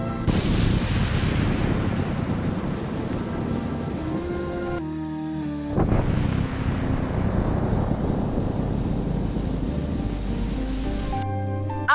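Cartoon thunder cracks twice during a storm, each a loud sudden crash that fades into a long rumble over steady rain, with a quiet gap between the two strikes.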